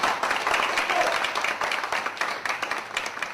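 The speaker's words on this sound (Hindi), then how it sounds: "एक बार जोरदार ताली होनी चाहिए।" An audience at a goal-setting training session claps together in a loud burst of applause. The clapping is dense and fluttering and fades slightly toward the end.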